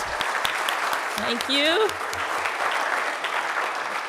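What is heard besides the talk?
audience round of applause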